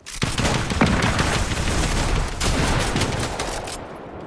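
Dense, loud video-game gunfire fills the whole span, a continuous barrage of overlapping shotgun and rifle shots with no pauses, heard up close and alone.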